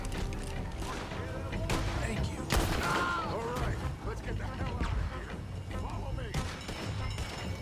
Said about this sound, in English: these buggers are shooting at me